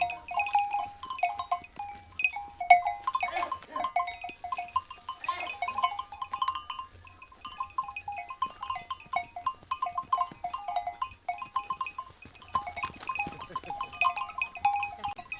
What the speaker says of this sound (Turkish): biz koyunlara damla iğne yaparken koyunlar geçiyor.